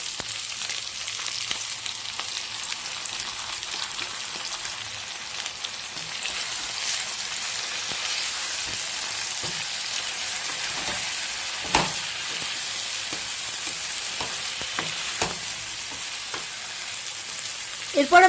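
Cauliflower and potato pieces frying in hot oil with spice paste, a dense steady sizzle like light rain that runs continuously, close and fairly loud, with a few scattered spatters and scrapes of stirring.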